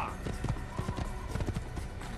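A horse in the Assassin's Creed video game clip-clops along in quick hoofbeats, close, with a faint background layer of other game sound.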